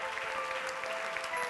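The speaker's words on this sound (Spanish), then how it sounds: "Si te apetece, te damos un aplauso. ¡Fuerte el aplauso!" Dense, steady audience clapping fills a brief moment at a youth creators' awards event in Aragón, loud and continuous from start to finish.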